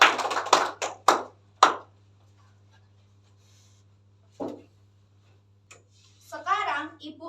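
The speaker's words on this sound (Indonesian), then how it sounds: "Beri tepuk tangan untuk Lintang." Short burst of a few children's claps for a pupil in a classroom, close and loud, stopping after about two seconds, followed by quiet and then a voice speaking.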